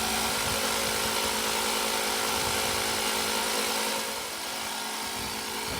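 A Ryobi One+ cordless inflator pump runs continuously with a loud, steady mechanical whine and buzz, its pitch shifting slightly partway through.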